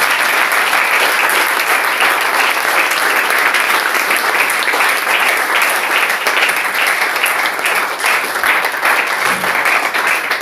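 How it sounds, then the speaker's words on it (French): A church congregation in Cameroon applauds loudly and continuously, a dense, unbroken wall of clapping that fills the entire stretch at steady volume. "Applaudissons pour le Dieu clair."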